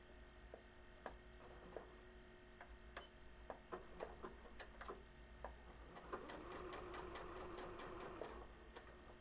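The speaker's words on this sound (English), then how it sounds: "Back to the sewing machine. You can sort of see me. Okay, yeah, about 1/8. I'm just doing regular old straight stitch." A sewing machine runs a straight top stitch on a Christmas craft project, with quiet scattered ticks and clicks that turn into a steady, faster run of stitching near the end.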